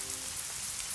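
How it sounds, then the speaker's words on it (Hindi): Steady first rain of the season patters on surfaces in a continuous, even hiss with no voices. "देखो ये पहली बारिश है"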